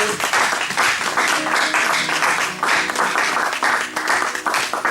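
A church congregation claps and cheers in praise during a worship service, loud and sustained, with rhythmic bursts of clapping and some voices mixed in.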